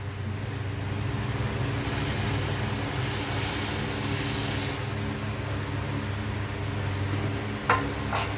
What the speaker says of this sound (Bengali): এই যে জলটা কি সুন্দর করে ফুটে গেছে